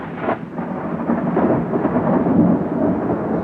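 A thunderstorm sound effect in a children's read-aloud story: a steady, loud wash of rumbling thunder and rain rolls on for several seconds, with no voices over it.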